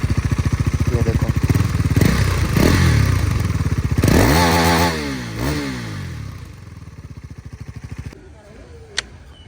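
A KTM Duke 390 motorcycle engine runs without an exhaust, giving a loud, close, rapid-firing idle with two sharp rising-and-falling revs in the middle, then settling back into a choppy idle with a single sharp click near the end.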